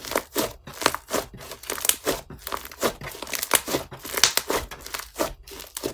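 Borax-free slime from a blind box being squeezed and stretched, giving rapid wet crackling pops and squishy crinkles in a steady close-up rhythm, with no talking.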